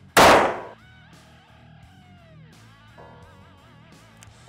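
A single loud, sharp pistol shot fired at a backpack during a durability test, close and piercing, followed by a ringing metallic whine and quiet room sound, with a faint click at the end.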